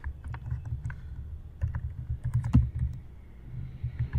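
JavaScript code being typed on a computer keyboard: a quick, irregular run of close key clicks with short pauses and a few heavier strikes, with no voices.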